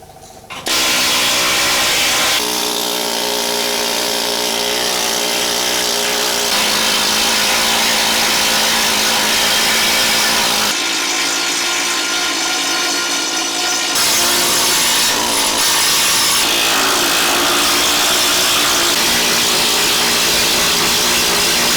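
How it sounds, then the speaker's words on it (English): A needle gun removes failed paint and rust from a metal surface, giving a loud, harsh, continuous rattling buzz. It stays close and steady for about twenty seconds, with short shifts in tone as it moves. "so I'm going to go over the whole thing with that needle gun, and anything loose will just come off"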